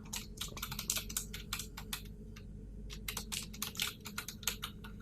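Someone types on a computer keyboard while working in Excel, producing a steady run of quick, close key clicks with a brief pause midway.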